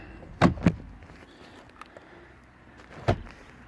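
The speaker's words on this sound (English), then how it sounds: "Snap it down." A plastic steering column cover on a Ford Escape snaps into place with sharp plastic clicks: two quick close snaps, a lull with faint handling, then one more snap.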